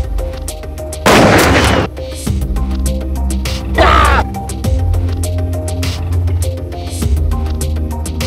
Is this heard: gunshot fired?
yes